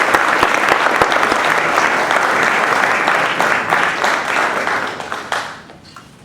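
An audience applauds loudly and steadily as a speaker is welcomed to an evening lecture on C.S. Lewis, J.R.R. Tolkien and the Great War, the dense clapping tapering off near the end.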